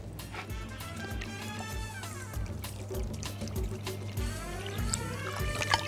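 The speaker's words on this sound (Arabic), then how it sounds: "واحط عليه ميه" Water is poured over sugar in a pot to start a syrup for zalabia, a continuous close splashing trickle lasting several seconds with faint background sounds.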